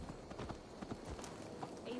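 Horse hooves clip-clopping in Assassin's Creed Valhalla: a brief run of soft, uneven hoofbeats, fairly faint, mixed with game ambience and voices.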